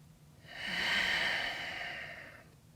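A single long, breathy exhale swells and fades during a balance and stability workout, close and soft, with no talking.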